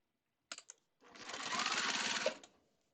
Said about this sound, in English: I'm going to take this over to our machine and I'm going to start on the edge of the strip, do a back tack, and sew down